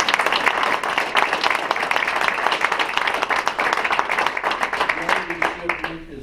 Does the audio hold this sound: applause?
yes